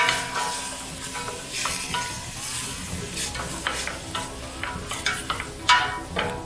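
A spoon scrapes and stirs through wedding soup with carrots in a pot, producing close irregular clinks and scrapes over a soft sizzle, no speech.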